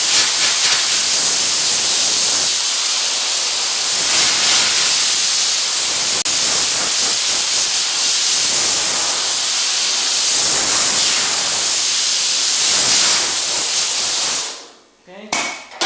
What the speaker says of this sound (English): We'll use some air here. Just want to cool this down.